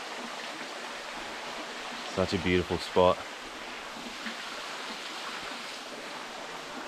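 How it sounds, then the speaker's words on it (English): A steady rushing roar of a waterfall fills the whole clip, with a person speaking briefly partway through. "How good's the sound of a waterfall?"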